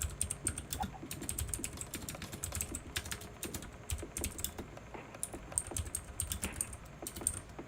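Fast typing on a computer keyboard, close and crisp, with irregular bursts of key clicks and brief pauses, no voices.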